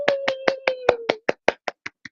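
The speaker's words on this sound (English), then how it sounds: "Round of applause. Golf clap." A golf clap, a run of about eleven soft, evenly spaced claps close by that fade toward the end, with a faint steady tone behind the first half.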